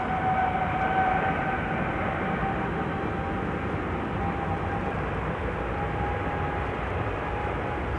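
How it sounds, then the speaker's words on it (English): A KLM Boeing 787-10 Dreamliner heavy jet departing Amsterdam Schiphol Airport gives a steady, broad engine roar with a thin whine riding over it, moderately loud and continuous throughout. "It is a 787-10 Dreamliner, which will be going to LAX, KLM Flight 601."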